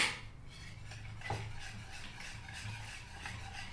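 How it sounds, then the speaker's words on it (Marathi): A spoon scrapes and stirs through rava uttapam batter with salt and Eno in a bowl, soft continuous rubbing and clinking close by, no voices. "आता मिक्स करून घ्यायचं."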